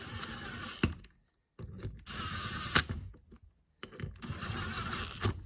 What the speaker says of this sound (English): then I go over them with a ratchet